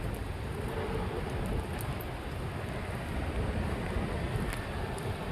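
Steady wind rushes across the microphone outdoors at a ferry station on a waterfront esplanade, a continuous broadband roar with faint distant rumbling beneath.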